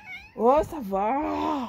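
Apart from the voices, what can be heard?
cat meowing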